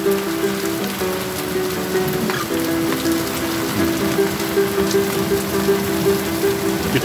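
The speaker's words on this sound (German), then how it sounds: "Geht schon die Tür nicht mehr zu, vor lauter Regen." Heavy rain pours down outside a railway workplace, a loud, dense and unbroken hiss of drops drumming on surfaces close by for several seconds, with no talking.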